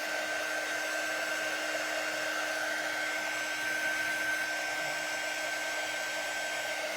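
A hair dryer blows steadily on a Valentine door hanger craft with a scored background, a constant close airy whir with a high whine that holds evenly for the whole stretch and has no talking over it.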